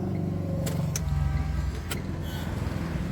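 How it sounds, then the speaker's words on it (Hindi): A car idles and moves off with a low steady engine hum, while a few sharp mechanical clicks and thumps sound from inside the cabin. "अब चल रहे हैं दोस्तों, गाड़ी स्टार्ट कर नौटल में"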